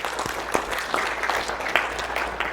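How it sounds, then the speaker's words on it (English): A workshop audience gives a round of applause, a steady wash of many hands clapping at moderate loudness throughout, with a few sharper individual claps standing out. "Big round of applause."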